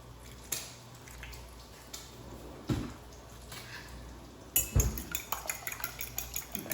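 Eggs being mixed in a bowl for a meatloaf, with soft irregular clinks and scrapes of a utensil against the dish and a few wet stirring sounds, quiet and close, growing busier toward the end.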